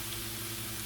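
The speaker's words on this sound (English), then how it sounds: "you hear that sizzling? I think I got my pan just right." Onions and turkey sizzle steadily in a hot pan for a breakfast casserole, a close, even hiss with low kitchen hum beneath and no talking.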